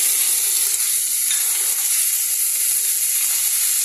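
Ground spices hit fried onions in a hot pan, giving a steady, bright, close sizzle and hiss that holds evenly throughout with no talking.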